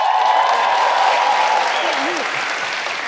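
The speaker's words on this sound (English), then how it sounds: "What you clapping for?" Studio audience clapping on a Ghanaian Family Feud game show, a loud, sustained burst of applause that gradually eases, with a host's voice speaking over it.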